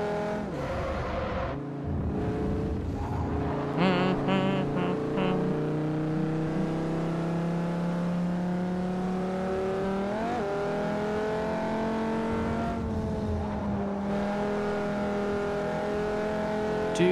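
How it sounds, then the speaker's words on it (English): A car engine in Forza Motorsport 4, during a wagon race, revs and accelerates steadily, its pitch climbing through gear changes. The engine drone is loud and close, and no one talks. "This car's got some power!"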